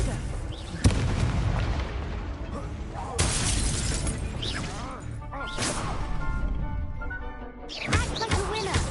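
The Confringo fire spell in the game Hogwarts Legacy bursts in several sharp, loud explosive blasts with crackling debris and whooshing effects, mixed with game voices.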